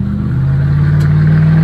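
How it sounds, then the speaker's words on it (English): A Cadillac Escalade engine revs as the accelerator is pressed, a loud, steady low rumble that swells slightly and holds for under two seconds, with no talking. "when you press the accelerator,"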